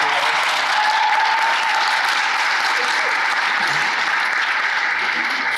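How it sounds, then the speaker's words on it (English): A conference audience at a higher-education-in-prison session gives a sustained round of applause, dense, even and loud throughout with no pauses. "One more round of applause for their participation."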